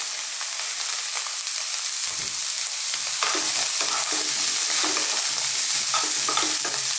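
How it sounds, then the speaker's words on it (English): Courgette (zucchini) sizzles steadily in a frying pan for vegan fried rice with olives, with repeated scraping stir strokes joining the constant fry from about two seconds in, close and fairly loud, with no talking. "Now at this point, we're going to go in with our courgette or zucchini."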